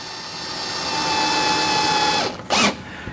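Power drill driving screws into a rotating shoe rack tower during assembly, a steady whirring run for about two seconds that winds down, then a brief burst, close and alone with no talk.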